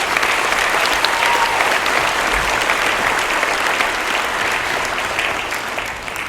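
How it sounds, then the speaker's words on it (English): A large crowd claps loudly and steadily for several seconds, the dense applause fading slightly toward the end. "if we can give Crockford Real Estate a big round of applause, please"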